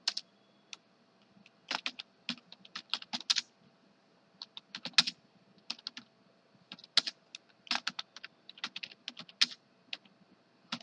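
Computer keyboard typing in irregular bursts of quick, crisp key clicks, close and fairly quiet, with short pauses between words as a support message is written.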